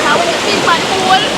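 Pressurized water gushes in a steady, loud, broadband rush that fills the whole moment without pause.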